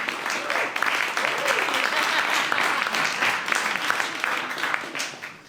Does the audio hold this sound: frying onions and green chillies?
no